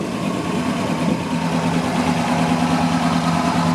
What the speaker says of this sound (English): it cranked right up and it's sitting there running